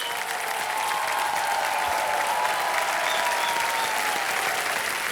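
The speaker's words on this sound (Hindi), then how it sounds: "ताली बज जाए इनके लिए।" Studio audience on the Kaun Banega Crorepati quiz show applauds a contestant, a dense, even wash of clapping that holds steady and loud, with a faint musical tone underneath.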